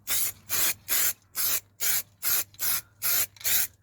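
Underseal sprayed from a can onto the underbody of a Ford Focus Mk1, about nine short, even hissing bursts in a steady rhythm, close and moderately loud, with no talk.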